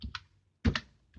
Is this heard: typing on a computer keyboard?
yes